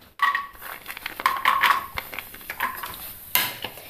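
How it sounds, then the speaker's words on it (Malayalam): Cashew nuts dropped into hot ghee in a pan, clattering metal utensil and pan knocks over a light sizzle, close and uneven with several sharp bursts. "ചൂടായ നെയ്യിലേക്ക് കാഷ്യൂനട്ട് ഇട്ട് കൊടുക്കാം."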